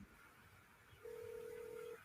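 A single long telephone ring tone on an unanswered cold sales call sounds steadily for about a second over faint line hiss, with no voices.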